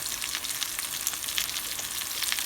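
A steak sizzles steadily in a hot pan, a constant crackling hiss with small pops and no voices.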